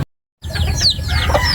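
Backyard gamefarm chickens clucking at afternoon feeding time, several birds making busy overlapping clucks and squawks close by, after a brief moment of silence at the start.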